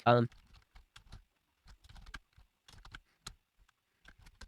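Quick essay typed on a computer keyboard: irregular bursts of light key taps up close, with short pauses between runs and a soft thump at the start.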